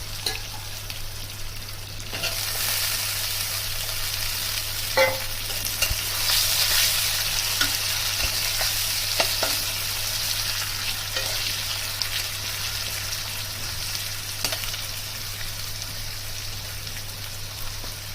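Potatoes sizzling in hot oil in a pan for Bengali muri ghonto, a steady dense hiss throughout with occasional faint stirring knocks, close and continuous with no voices.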